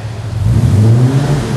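Six-cylinder engine of a 1966 Chevrolet C10 revving once, a brief loud close rise in deep engine pitch that holds and then settles, with no talk.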